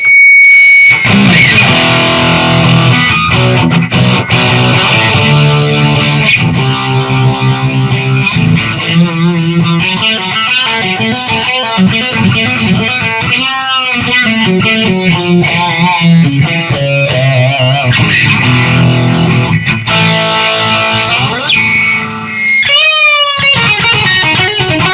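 Loud electric guitar with heavy distortion, a Zakk Wylde Rebel copy, playing sustained chords and riffs continuously, with a brief sliding pitch sweep near the end.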